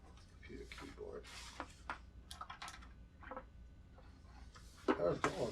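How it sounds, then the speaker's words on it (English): Computer keyboard typing as a sound effect, irregular clicking keystrokes in short bursts mixed with clattering, nearby and fairly quiet, while people talk over it toward the end. "Computer keyboard."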